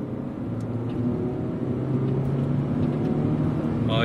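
A car accelerates through first and second gear during a U-turn after a Marvel Mystery Oil intake treatment, its engine and road noise steady and close throughout with a rising tone.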